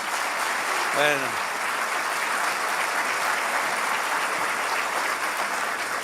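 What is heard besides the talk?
congregation applauding in church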